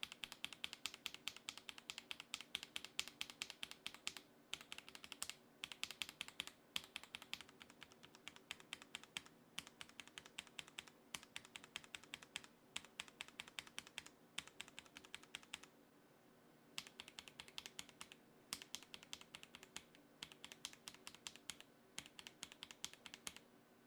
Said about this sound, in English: Let's have a listen and compare both OG Sonjas and Cherry MX Blacks to the Sonja HC switches